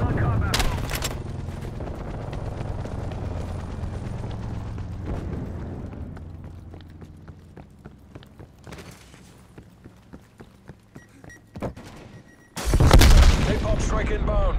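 In a team deathmatch of Call of Duty: Black Ops Cold War, a frag grenade explosion and gunfire sound out: an early loud blast, then scattered sharp gunshots through quieter game noise, and a heavy close explosion with rapid fire near the end.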